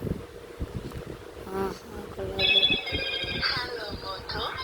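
A Motorola keypad mobile phone powers on with a short electronic startup melody of bright tones that follows a few handling clicks, with a voice faintly in the background.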